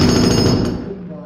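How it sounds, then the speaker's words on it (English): Rented jackhammer pounding during a home DIY job, apparently operated by a young boy, a loud continuous rapid hammering that tapers off toward the end of the clip. "Little boy versus Jackhammer."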